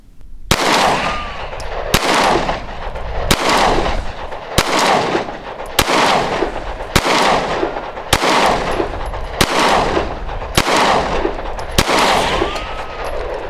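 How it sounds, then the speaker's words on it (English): A Glock G43x pistol fires 10 rounds at 7 yards on a range, loud sharp reports spaced evenly about a second and a half apart, each followed by a brief ringing echo, with no speech. "So I'm going to fire 10 rounds, 7 yards"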